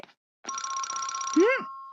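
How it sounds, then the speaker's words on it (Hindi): A telephone rings in a Doraemon cartoon: one short, bright electronic ring burst, followed by a quick rising-and-falling sliding tone as it cuts off. "ये जरूर शिजुका का फोन होगा।"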